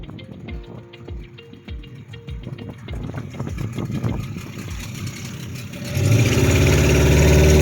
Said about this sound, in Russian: Газ не в полную силу даю, чтобы не насиловать мотор